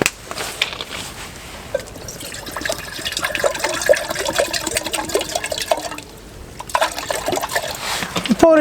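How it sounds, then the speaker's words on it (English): Water is poured into a metal billy pot at a bush campsite, making a steady, close splashing and trickling that shifts in tone as the pot fills and briefly eases near the end. "We pour in just enough to be just enough."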